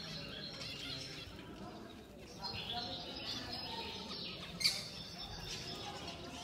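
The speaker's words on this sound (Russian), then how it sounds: "Ну, чирикают." Small sparrow-like birds chirp softly in an enclosed Dubai butterfly garden, with scattered faint tweets over a quiet, steady background hush.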